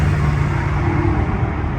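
A 2018-2023 Honda Accord with an upgraded active exhaust accelerating, a steady close low rumble and broadband roar from inside the car over this short stretch, with no talk.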